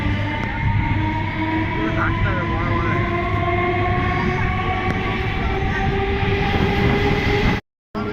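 A passenger train on the Howrah to Bardhaman line rumbles steadily along the rails after leaving a halt, with constant droning wheel noise and humming tones, and a brief dropout near the end.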